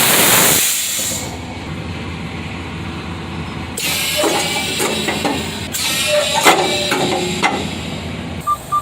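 Truck air-operated valve for sliding tandems releasing a loud burst of hissing air, followed by quieter clanks and thumps of metal parts.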